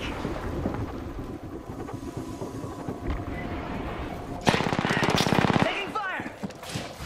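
Rapid automatic gunfire crackles through a video game firefight, with dense bursts running throughout and a louder, closer volley near the end, under background noise and some voices.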